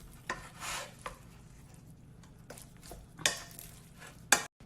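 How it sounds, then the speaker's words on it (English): Sushi rice being mixed thoroughly in a bowl for spicy tuna rolls, giving soft scraping and stirring strokes with a few sharper utensil knocks, close and fairly quiet without speech. "You gotta mix your rice thoroughly"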